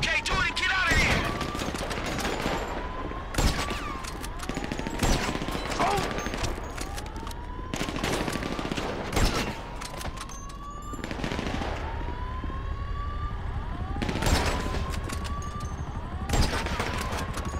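Repeated bursts of automatic gunfire in Grand Theft Auto V, set during the Merryweather heist aboard a freighter, crack out in clusters over wailing sirens and game sound, while a character shouts in between.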